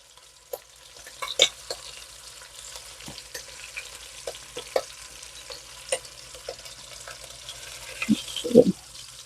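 Short ribs browning in a hot pan give a soft, steady sizzle punctuated by scattered clicks and scraping stirs, fairly quiet and close, with a few louder knocks near the end.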